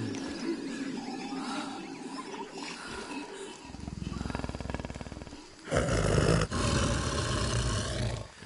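A big cat in Shadow of the Tomb Raider roars loudly, with a rumbling growl building into a sharp, close roar near the end.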